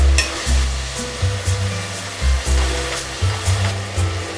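Tomatoes stirred into soya chunks frying in a pan, with a steady loud sizzle and hiss broken by repeated rhythmic scraping strokes of a spoon, no voices.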